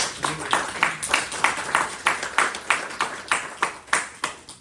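Scattered clapping from a small audience at a city council regular meeting in Mulberry, Georgia, a dozen or so distinct claps in an uneven rhythm, moderately close and fairly light, with no one speaking over it.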